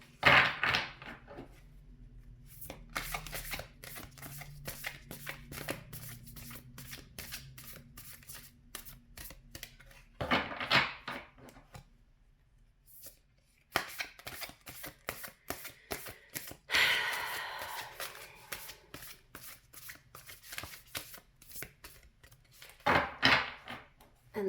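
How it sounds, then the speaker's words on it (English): A deck of playing cards is shuffled again and again in close, crisp riffling bursts, with quiet pauses between the rounds of ruffling and snapping. "And that's why I don't like shuffling on camera."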